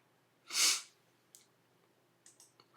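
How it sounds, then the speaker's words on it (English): A single sharp sniff is followed by a few faint clicks and small breaths in an otherwise quiet room. "got the sniffles."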